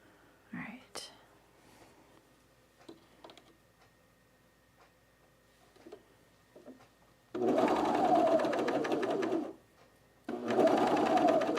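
A serger stitching underwear elastic with its blade disengaged runs in two steady whirring bursts near the end, after quiet handling noises and faint low speech.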